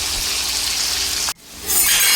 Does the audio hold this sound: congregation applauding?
no